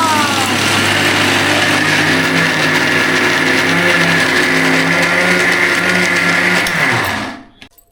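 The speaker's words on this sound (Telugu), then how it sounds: "ఇప్పుడైతే గ్రైండర్ మీద పెట్టేసింది." Electric wet grinder churning fresh corn batter with green chillies for corn garelu: a loud, steady mechanical whir runs continuously, then winds down and cuts off near the end.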